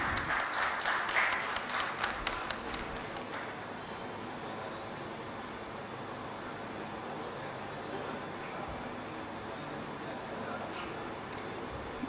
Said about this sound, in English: A warm round of applause, ladies and gentlemen.